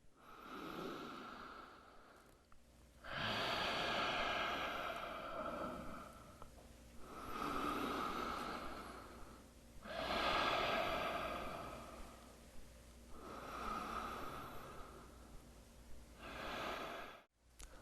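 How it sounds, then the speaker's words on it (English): Slow, deep breathing in and out through the nose during a cool-down stretch in an upper body mobility workout: several long, soft, airy inhale-exhale cycles, close and quiet, evenly spaced with brief pauses between. "Slow down your breathing. In and out of your nose."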